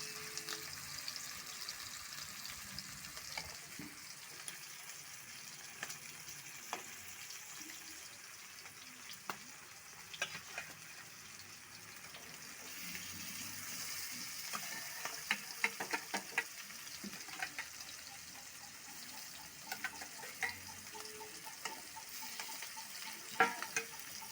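Hilsa fish frying in hot oil in a home kitchen, a steady soft sizzle with scattered crackles and spits, fairly quiet and continuous, with no talking.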